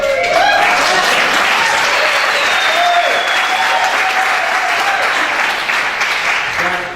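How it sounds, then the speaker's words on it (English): A large audience at an evening arts showcase claps loudly and steadily, a dense sustained wash of applause with a voice speaking over it near the end. "Clap early, clap often."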